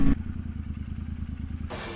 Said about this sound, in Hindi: 50 सीसी का इंजन खींच रखा है अंकल ने